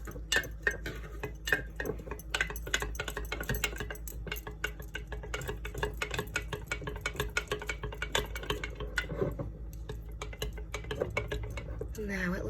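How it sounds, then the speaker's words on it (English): A spoon scrapes and taps steadily around a container while hooch is stirred into sourdough discard, a soft irregular clinking that runs the whole time, fairly quiet. "Just stir that hooch in."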